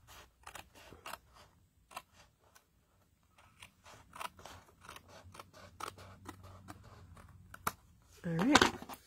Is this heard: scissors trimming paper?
yes